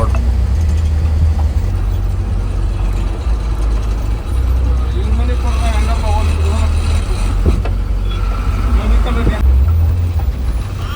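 Vehicle driving along a newly laid small village road, a loud steady engine rumble and road noise heard from on board, with someone talking over it.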